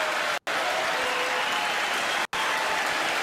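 An audience at the State of the Union breaks into sustained applause, a dense wash of clapping and cheering that holds steady, with two brief cuts in the sound.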